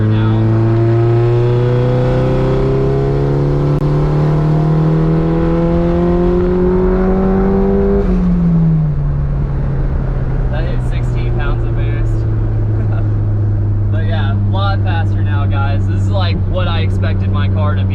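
Nissan 240SX with straight pipes accelerating hard in third gear, a loud raspy exhaust drone climbing steadily in pitch, dropping briefly at a shift, then rising again while a voice talks over it.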